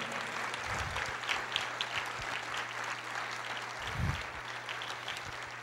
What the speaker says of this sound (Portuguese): Aplauda o Senhor, Ele é o Senhor da nossa vida